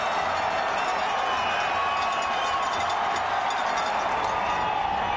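Roaring football stadium crowd at the 2001 Rocky Mountain Showdown just before a fourth-and-goal play, a dense, steady wall of cheering noise holding level throughout.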